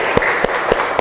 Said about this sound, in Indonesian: Ayo anak-anak tepuk tangan untuk kelompok